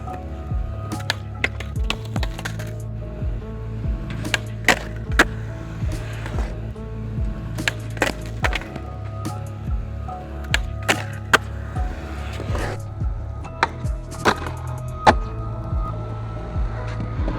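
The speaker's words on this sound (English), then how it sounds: "I'll show you and we'll try and get a kickflip in" A skateboarder tries kickflips, with repeated sharp wooden clacks and pops of the board striking pavement amid steady wheel rumble, recurring every second or so over a continuous rolling background.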